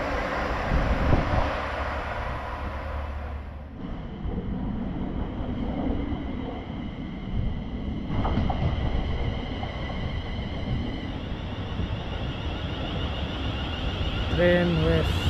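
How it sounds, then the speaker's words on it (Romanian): A London Northwestern Class 350 electric train passes through Stechford station, a loud, steady broadband rumble filling the whole stretch, with gusty wind buffeting the microphone throughout. "Coast către Londra, Euston. LNR clasa 350"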